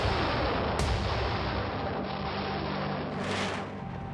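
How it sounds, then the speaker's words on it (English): Artillery fire and bombing during the Second Chechen War assault on the capital, Grozny, form a dense, constant roar of blasts and rumble. It is loud and close, with a sharp crack near the start and no speech. "Putin ordered the bombing of the capital."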